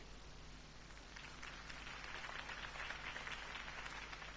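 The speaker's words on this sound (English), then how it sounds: "If only Mr. Wayne, my campaign's largest backer, could have heard that applause" Steady crowd applause after a political campaign speech in the video game Batman: The Telltale Series, a dense wash of many hands clapping that swells slightly and holds for several seconds over a low hum.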